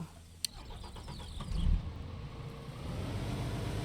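Truck engine starting in the farming game Pure Farming 2018: a click, a short cranking whir, then the engine catches with a low surge and settles into a steady idling rumble.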